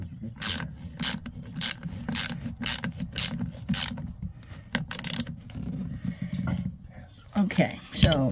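A hand ratchet tightens the cable connections on a Victron battery shunt in a Leisure Travel Vans house battery setup, with bursts of sharp, rapid clicking in a steady rhythm, close by, followed by softer handling noises toward the end.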